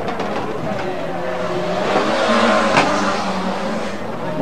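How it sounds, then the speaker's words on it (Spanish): A rally car races at the 1995 Gran Canaria rally, Carrera de Campeones. Its engine roars loudly and close, swelling as it passes, with a brief tire squeal and faint commentary underneath. "Ahí está el coche de Bruno Tiri, fácilmente identificable."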